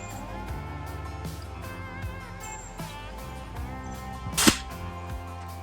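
A Weihrauch HW70 air pistol fired once from a bench at a range gives a single sharp, close crack near the end, over a steady tonal background hum.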